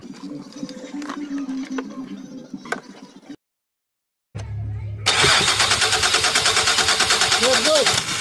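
A car with a new ignition coil pack, which had been losing power and not shifting gears, cranks after a short silence, catches and settles into a loud, steady idle close by, following some quieter background noise.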